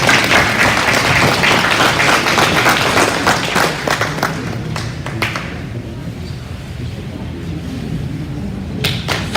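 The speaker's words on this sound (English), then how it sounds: "Let's give these kids a good round of applause." Audience applause for the kids at a cattle show, dense rattling clapping from a crowd that is loud for the first several seconds and then thins and fades, with a few louder claps near the end.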